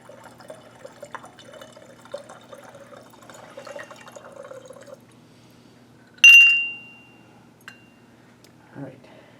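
A lab solution is poured into the next container as a faint, soft trickle for several seconds, followed by a single sharp glassy clink that rings out and fades, then a quieter knock.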